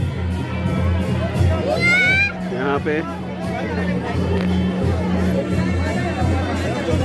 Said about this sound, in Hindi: काफी भीड़ है